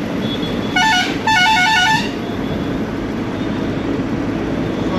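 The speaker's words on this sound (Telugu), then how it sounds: "ఈ ఎయిర్ హార్న్ కొట్టి కూడా చాలా రోజులు అయితే అవుతుంది" A truck's air horn blasts twice, a short honk then a longer one, loud and close over the steady rumble of the truck's engine.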